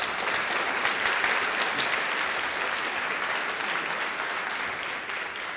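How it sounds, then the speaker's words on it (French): Audience at a youth democracy quiz tournament final gives steady, even applause from start to finish, fairly soft and without talk over it. "On peut les applaudir."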